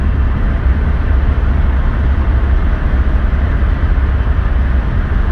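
A Mercedes 300SD turbo diesel car pulls up through the gears, its loud, rough engine drone and road rumble filling the cabin continuously and close without any voices.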